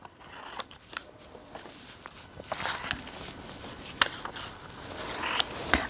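Scissors snip repeatedly through paper while squares are cut out in a classroom, a quiet irregular run of crisp cuts and light paper rustling with no talking.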